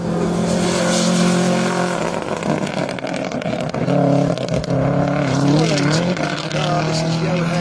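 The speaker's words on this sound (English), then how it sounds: "There's 94, which is Frederic Millet, goes past us for his second lap." A rally car, number 94, roars past on a special stage, its engine loud and close as it rises, dips and surges through gear changes, while a commentator talks over the noise.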